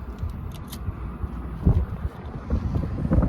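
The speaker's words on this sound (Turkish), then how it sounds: "çok rüzgar var ki olmuyor" Strong wind blowing outdoors on a snowy day, gusting and buffeting the microphone into a steady low roar, with faint rustles and knocks nearby and no clear talk.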